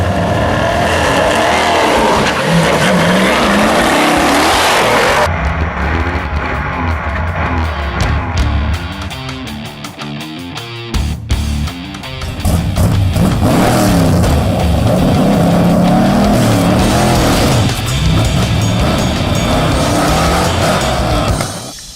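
A race truck makes a run, its engine roaring loud and close and rising through gear changes, with tire squeal and a brief dip before the full-throttle roar returns.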